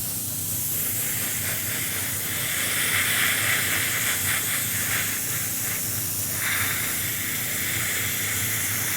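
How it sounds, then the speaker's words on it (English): An airbrush sprays paint onto a Tamiya Panther tank model in a steady, close airy hiss, swelling slightly in the middle, with no voices. "I've angled the airbrush just to hit the high points on the top of the tank."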